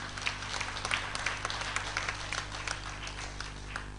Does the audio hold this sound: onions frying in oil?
no